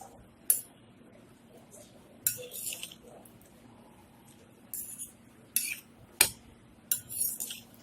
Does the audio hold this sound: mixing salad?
yes